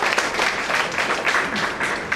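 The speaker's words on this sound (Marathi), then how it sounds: "सगळ्यांनी यांना आपण जोरात टाळ्या वाजवूया याच्यासाठी" Audience applause at a book launch ceremony: dense, loud clapping from a crowd that carries evenly and without a break through the whole stretch.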